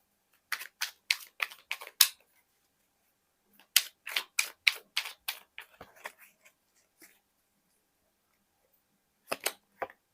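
Tarot cards drawn and handled: sharp close snaps and flicks come in quick bursts of five or six, a pause, another burst, then a pair of crisp clicks near the end, with no talking.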